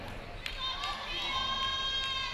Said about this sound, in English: Lots of cheering from the crowd as well.